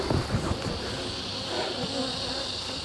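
Honey bees swarm around a beekeeper during a queen replacement, their buzzing a dense, steady drone close by. A few soft handling sounds rise at the start.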